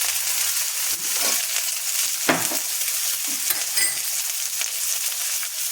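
Spice paste with chopped tomato sizzles steadily in hot oil for rohu fish curry, with occasional spatula scrapes and stirs close by over the continuous frying hiss.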